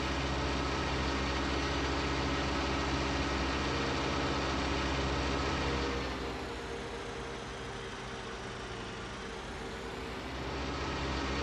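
A tractor engine in the Farming Simulator 19 video game drones steadily with a low harmonic hum, dipping in level for a few seconds before rising again.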